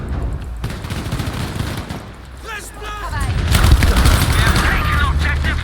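A Thompson submachine gun firing in Battlefield V: dense, rapid bursts of gunfire that grow louder and heavier midway, mixed with other battle noise and voices talking.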